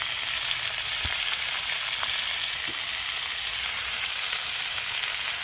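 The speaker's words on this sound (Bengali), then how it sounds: "এটাকে ভালো করে ভেজে নিতে হচ্ছে টমেটোটাও ভালো মতন ভাজা হয়ে গেছে" Potato and tomato frying in a pan with a steady, dense sizzle throughout, close and even, broken by a couple of faint clicks, with no talking.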